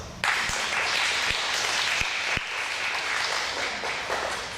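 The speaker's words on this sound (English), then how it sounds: "Let's give her a round of applause." A small group at an education concert claps steadily for a few seconds, a dense patter of hand claps at moderate volume with a few sharp thumps near the start.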